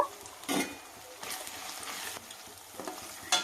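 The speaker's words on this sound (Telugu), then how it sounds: "ఈ అల్లం వెల్లుల్లి పేస్ట్ అనేది పచ్చివాసన పోయేంత వరకు వేయించాలి" Ginger garlic paste fries in a pan for a goat leg curry, with bursts of sizzling and scraping from stirring coming and going at close range, loud and alone.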